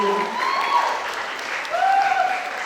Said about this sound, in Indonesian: Tepuk tangan Ibu Adri.